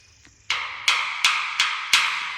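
A small rock taps a hard surface five times in a slow, steady rhythm, each a sharp, close knock followed by a short ringing decay.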